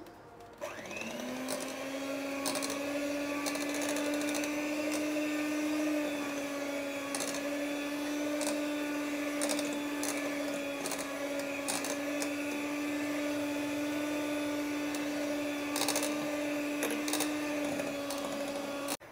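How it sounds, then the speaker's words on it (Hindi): An electric mixer or blender whirs steadily while it blends butterscotch ice cream cream with yellow food colouring, a loud, even motor drone that carries on alone with faint clatter over it. "कलर डाल के भी इसे मैंने मिक्स कर लिया है"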